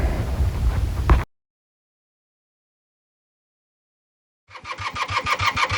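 A 1979 Honda CB250N motorcycle engine catches after a stretch of silence and settles into a steady, loud, rhythmic putter close by, following an earlier burst of cranking noise.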